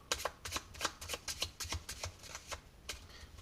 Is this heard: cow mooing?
no